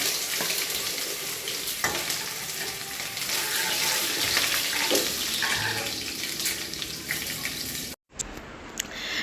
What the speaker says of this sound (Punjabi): ਇੱਧਰ ਮੈਂ ਤੜਕਾ ਲਗਾਉਣਾ ਸ਼ੁਰੂ ਕਰ ਲਿੱਤਾ